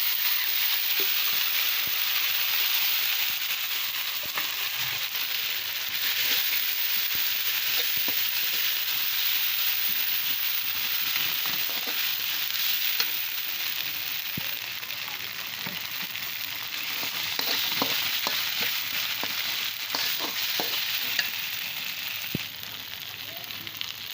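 Ground spice paste fries in a pot of meat with a steady, hissing sizzle. Faint crackles and occasional stirring scrapes run underneath, and no one speaks.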